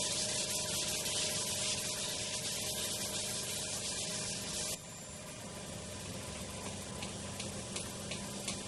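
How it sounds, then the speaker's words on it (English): A sanding machine smooths an ash hurley, giving a steady close abrasive hiss that drops to a softer, rougher grinding partway through. "The sanding machine has speeded up this part of the job."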